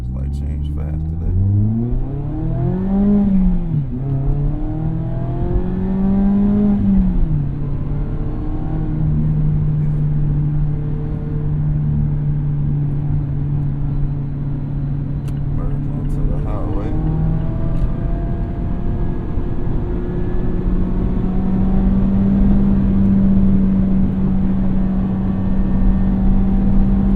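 A Mazda ND3 Miata on an early morning drive toward Detroit: the engine pulls up through rising revs, shifts, and settles into a steady cruising drone, heard from inside the cabin while a person talks over it.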